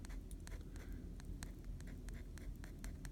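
Fine metal pen nibs scratch across paper while doodling lines, a steady close soft scratching with brief brighter strokes repeating every fraction of a second over a low background hum.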